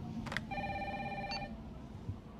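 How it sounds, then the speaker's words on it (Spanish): In the Resident Evil 3 Remake game, a telephone rings with one clear, sustained electronic ring burst over a dull, rumbling ambience, and a couple of faint clicks come before and after it. "Vamos a contestar el teléfono"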